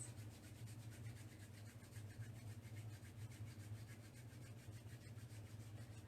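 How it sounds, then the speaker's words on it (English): Palms rub together during a yoga session, giving a soft, continuous swishing friction with a quick back-and-forth pulse, close and faint, with no talking. "we're going to bring our palms together and start to rub our palms"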